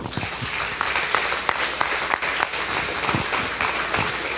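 A church congregation applauding together, dense steady clapping from many hands that fills the room, loud and unbroken for the whole stretch.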